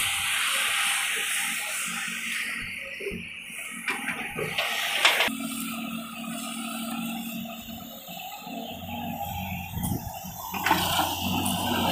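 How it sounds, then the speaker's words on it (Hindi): Water is poured and sprayed over fresh concrete for curing at a building construction site, a steady rushing hiss and splash, fairly close, with a few louder gushes. "इसमें ये जो है ऐसा क्यूरिंग कर रहे हैं ऊपर से पानी डाल के"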